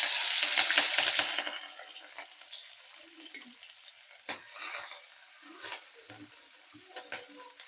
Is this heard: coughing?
no